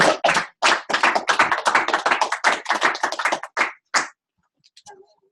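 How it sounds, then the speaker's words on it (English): Brief burst of audience applause from a leadership academy crowd welcoming a speaker on stage, loud rapid claps for about four seconds before cutting off, followed by a few faint scattered sounds. "Big round of applause"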